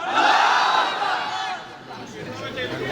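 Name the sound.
crowd shouting the takbir response to Nara-e-Takbir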